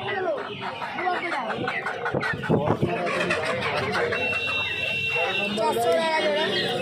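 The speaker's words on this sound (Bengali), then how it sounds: "তো এখানে দেখতে পাচ্ছ বেশ কিছু টোপরওয়ালা মুরগি রয়েছে" Crested hens cluck and squawk at a busy Uluberia hen market, scattered calls over a babble of nearby chatter and close talking.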